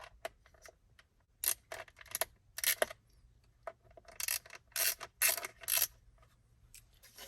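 Phillips screws being backed out of the rear display panel on a Tesla Model Y or Model 3, giving a run of small close metallic clicks and ratcheting bursts with short pauses between them.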